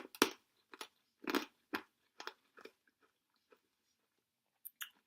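Someone chews American cherry-flavoured candy close up, with a run of crunchy, wet bites and chews that start strong and thin out into sparse, quieter smacks.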